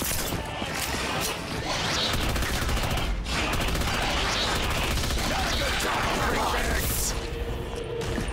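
Gunfire in Black Ops III custom zombies on the Trinity Station: Outpost 47 map, a dense, sustained barrage of rapid shots and crashing impacts running the whole time, loud and close, with a voice talking underneath.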